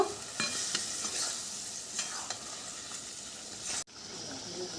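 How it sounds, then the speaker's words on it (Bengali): Fried pointed gourds being stirred into a curd masala gravy in a pan, a soft, continuous wet scraping and gentle sizzle at close range that breaks off abruptly near the end. "এরপর ভেজে রাখা পটলগুলো দিয়ে দেবো, দিয়ে একটু ভালো করে নাড়াচাড়া করে নেব"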